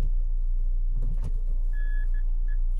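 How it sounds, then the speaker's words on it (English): A manual gear shifter in a 2015 Kia Venga 3 ISG is moved into reverse with a short clunk over steady engine idle, followed by a few electronic reversing beeps. "Then your manual shifter, now putting this into reverse."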